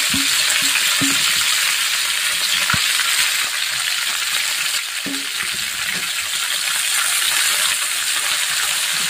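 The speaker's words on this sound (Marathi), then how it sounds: "आता आपण जी मेथीची भाजी घेतली होती ती टाकू." Fenugreek leaves (methi) sizzle steadily in a hot oiled pan with fried green chillies, stirred now and then with a few light utensil taps, close and loud with no talking.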